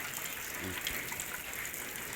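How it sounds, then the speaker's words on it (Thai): Steady rain falls at a rural farm home, a continuous broadband hiss of drops close by with no pauses, and a brief low voice murmurs faintly partway through. "ฝนตกใหม่เนาะ"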